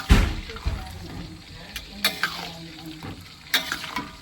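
Hotdogs frying in a pan, a steady sizzle broken by clinks and scrapes of stirring with a utensil, with a brief bit of nearby talk.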